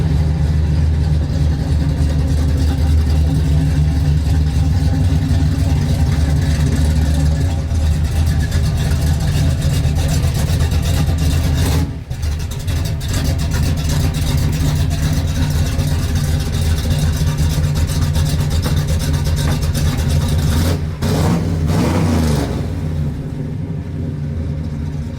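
A 1967 Dodge Coronet nicknamed Hefty rumbles loud and close as it is driven into a driveway, its deep engine note holding steady with slight revving swells and a brief dip partway through.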